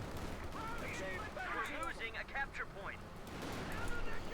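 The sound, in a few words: machine gun fire in video game Company of Heroes 2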